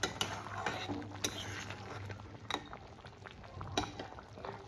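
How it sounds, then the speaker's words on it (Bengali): A spoon stirring prawn curry with garam masala in a pan, Bengali chingri malaikari: soft scraping strokes and occasional sharp metal clinks over a low simmering sizzle, close and moderately loud. "দিয়ে আর একটু নেড়ে নেব"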